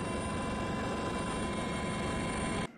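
A dense, loud rotor and turbine roar from a formation of more than ten military helicopters of various types, an air-assault brigade in flight, holds steady before cutting off abruptly near the end.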